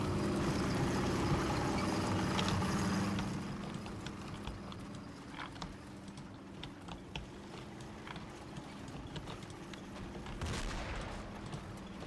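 A bazooka shell fires in a war video game, a heavy rumbling blast that fades after a few seconds into scattered, lighter battlefield clatter and distant shots.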